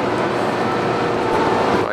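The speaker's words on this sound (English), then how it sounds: "TGV train just pulled into the station" TGV high-speed train at a station in France, a loud, close, steady rumbling roar of the train that holds without a break.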